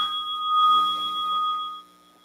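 A meditation bell is struck once and rings with a steady, bright tone that holds for nearly two seconds and then fades, clear and alone with no talking.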